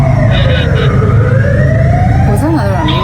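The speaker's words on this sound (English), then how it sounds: "Was that another ambulance?" A loud wailing emergency siren sweeps up and down close by in heavy rush-hour traffic near a tunnel in Norway, with steady engine and road rumble underneath.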